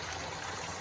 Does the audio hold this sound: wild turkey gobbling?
no